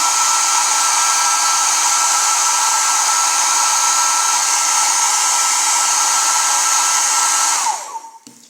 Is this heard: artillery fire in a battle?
no